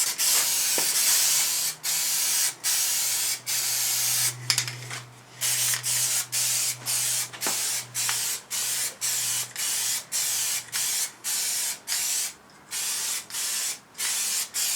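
Spray paint hissing onto a Triumph Bonneville motorcycle sump guard in a garage, close and loud, short bursts repeating in an even rhythm with brief gaps, no talking.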